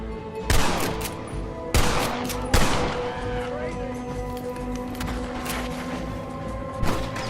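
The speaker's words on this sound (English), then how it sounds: "You man the Gatling gun, Marston!" In Red Dead Redemption's village assault, a Gatling gun fires in rapid cranking bursts, with several heavy booming shots standing out over a steady mechanical rattle and background battle noise, voices shouting underneath.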